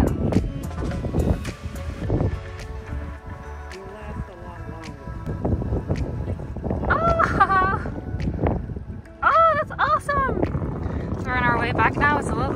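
A small motorboat runs upwind through choppy water in the Florida Keys, its engine drone mixed with buffeting wind and slapping spray, while people talk over the steady noise.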